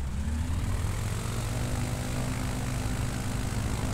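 A simulated propeller aircraft on a bush trip in Microsoft Flight Simulator 2020 runs at full throttle, its engine a loud, steady, droning roar with a deep hum that holds constant throughout.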